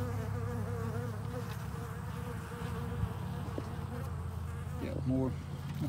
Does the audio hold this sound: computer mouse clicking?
no